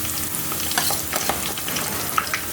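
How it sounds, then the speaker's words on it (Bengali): Onions and spices for goat meat curry frying in a pan, a dense close sizzle with stirring scrapes and small crackles, steady and loud, no voices. "পেঁয়াজগুলি একটু গাঢ় করে ভেজে নিই এবং মশলাগুলিও একটু গাঢ় করে ভেজে নিই, কষিয়ে নিই"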